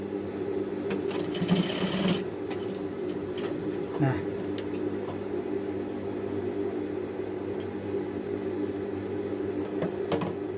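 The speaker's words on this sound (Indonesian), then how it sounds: "Kemudian kita jahit juga membentuk segitiga ya teman-teman." A sewing machine runs steadily while stitching a triangle on a men's shirt cuff placket, a continuous close mechanical whir with a brief louder burst near the start.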